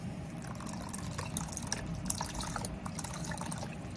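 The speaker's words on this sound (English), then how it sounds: "I'm going to add just a little bit more beef broth, just a little bit." Beef broth trickles into a slow-cooker beef stroganoff, a soft, continuous splashing and dribbling of liquid heard up close at low volume.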